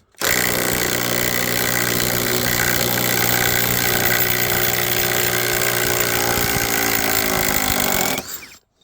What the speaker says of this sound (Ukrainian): тепер відкручую і далі перечіпляю це все діло на шуруповерт